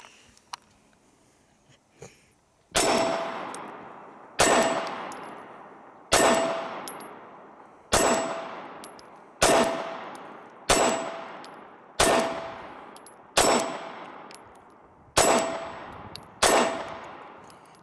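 A Sig compact handgun fires at a shooting range, ten sharp, loud shots spaced about one to two seconds apart, each with a ringing decay, after a quiet start with light handling noise.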